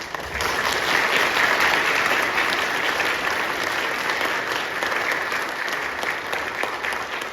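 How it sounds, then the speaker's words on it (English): At a spring concert in a church, the audience breaks into sustained applause for the accompanist, a full, even wash of clapping that holds steady for several seconds. "Can we give her a hand?"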